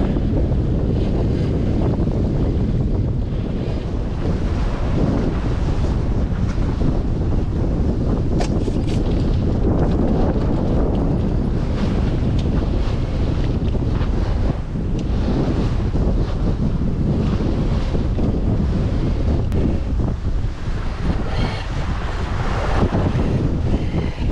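Icy, gusty wind buffets a sailboat sailing close-hauled about 25 degrees off the wind at five and a half knots, a loud continuous roar pounding the microphone with rushing water beneath and no voices.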